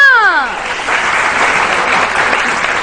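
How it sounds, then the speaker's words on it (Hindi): A morning-show studio audience bursts into loud, sustained applause, a dense wash of clapping that carries on steadily, opening under a fading musical sting. "तालियां"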